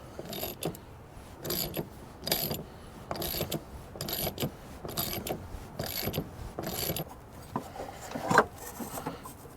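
A ratchet wrench with a 15mm socket removes motor mount bolts on a Mazda 6, repeated close ratcheting bursts in a steady back-and-forth rhythm across the whole stretch, with no talking.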